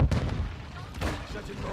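Grenade blasts in Call of Duty Modern Warfare II, a sharp boom at the start and another about a second later, each followed by rumbling gunfire-like noise.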